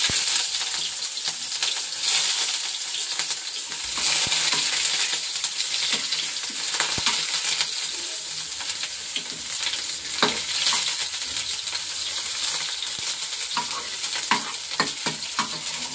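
Sliced onion rings fry in white oil in a wok, giving a continuous loud sizzle with occasional stirring scrapes and clinks throughout.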